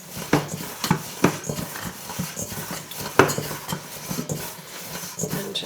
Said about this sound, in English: you can either keep stirring it like this, sort of turning it over with the spoon and kneading it a little bit